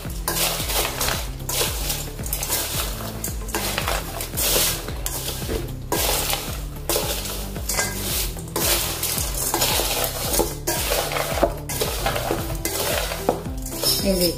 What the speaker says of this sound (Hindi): फिर हम इसको मिक्स कर लेंगे।